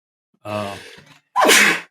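A single loud sneeze bursts out close by, preceded by a short sharp inhale and a brief catch of breath.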